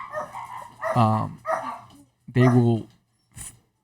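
A dog barking and yelping indoors, several short sharp barks and whiny vocalizations spaced across a few seconds, close and fairly loud against a low steady hum.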